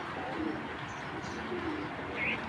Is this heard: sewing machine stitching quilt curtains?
no